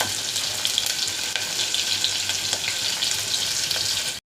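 Onions frying in oil with popped mustard seeds, a loud, dense, steady sizzle close to the pan with occasional light stirring, cutting off abruptly at the end, with no talk.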